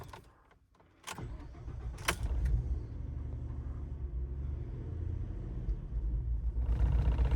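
A Ford 3.5 EcoBoost engine with a throttle body fault, in reduced power limp mode, cranks after a few clicks and catches, then idles with a low, uneven rumble that rises slightly in revs toward the end.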